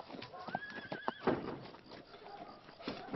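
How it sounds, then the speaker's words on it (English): A horse neighs sharply with a rising whinny, accompanied by a few hoof clops and shuffling nearby, fairly close but not loud. "Fucking horses!"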